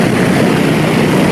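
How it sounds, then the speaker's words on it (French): All four engines of an airplane run while it sits at the north end of the runway at François Duvalier International Airport, a loud constant roaring drone with no breaks. "Les 4 moteurs de l'avion tournent."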